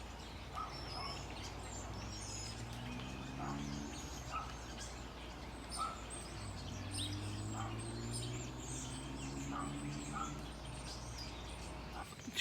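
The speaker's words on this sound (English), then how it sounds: "Huge flock of birds just landed in that tree." A large flock of birds calls and chatters together in a tree, a steady outdoor wash with repeated squawks and chirps over a constant low background hum.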